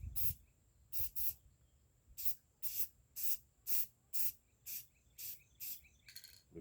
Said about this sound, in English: You just spray a bunch of colors on there and call it a day